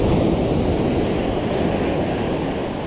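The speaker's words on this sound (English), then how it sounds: "Ooh, it's a big surf." Big surf breaking on a beach during shore fishing, a loud, continuous wash of roaring water and wind noise without a break, no voices heard.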